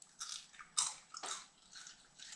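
Dehydrated orange slices bitten into, giving four or five separate crisp crunches with short pauses between them, close and fairly quiet, with no voices.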